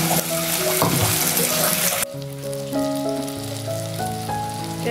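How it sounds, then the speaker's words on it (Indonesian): Cheap homemade snack frying in hot oil, a loud, steady crackling sizzle that drops in intensity partway through, with soft background music underneath. "Kita goreng selanjutnya ya."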